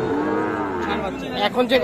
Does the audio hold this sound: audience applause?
no